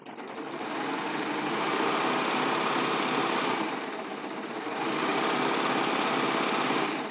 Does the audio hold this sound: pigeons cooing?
no